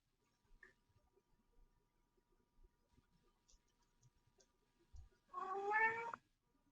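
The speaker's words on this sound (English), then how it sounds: "I hear your cat." A cat meows once, a short rising harmonic call near the end, loud against an otherwise quiet room with faint scattered ticks and bumps before it.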